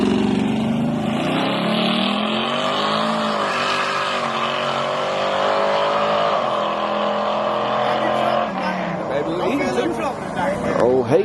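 A race car fitted with a new torque converter runs at a drag strip. The engine roars loud and close, its pitch wandering up and down before it drops off and turns rougher near the end.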